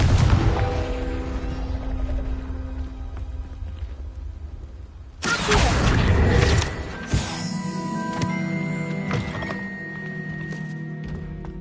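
Confringo fire spell cast in Hogwarts Legacy, a loud burst at about five seconds followed by sharp impacts over a bed of game music and effects, with no talk.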